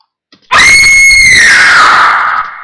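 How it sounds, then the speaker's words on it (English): A single loud, piercing high scream used as a vocal sample in a hip-hop beat, bursting in abruptly after a faint tick, held for about two seconds and sliding slightly downward before trailing off. "This is a nice scream."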